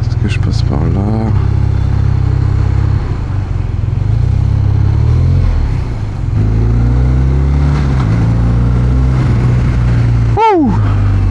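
A BMW R12 motorcycle rides on a busy road with steady close engine drone throughout, with brief revs and traffic noise, and a short high rising whine near the end.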